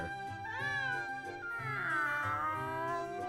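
Cartoonish meows from a cat that steals money in a Square Enix HD-2D role-playing game, several rising and falling cries in a row, loud and close over soft game music.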